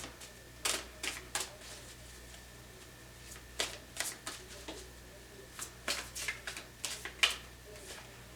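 Tarot cards are shuffled by hand in a quiet room, a scattered series of soft riffling and slapping bursts with pauses between them, close and faint.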